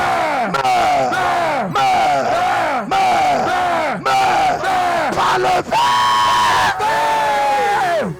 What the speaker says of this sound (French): Tous les cris de joie